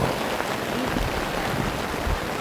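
Rain pours down steadily outdoors at a youth soccer game, a loud, continuous hiss of drops on surfaces with no talking.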